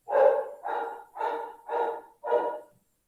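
A dog barks five times in a steady rhythm, loud and close, with no talk over it.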